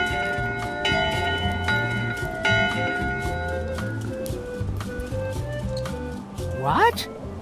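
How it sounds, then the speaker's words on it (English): A ship's bell rings repeatedly in the video game Return to Monkey Island, clear metallic tones struck in an irregular run alongside music and a character's voice. "That's not an official bell signal."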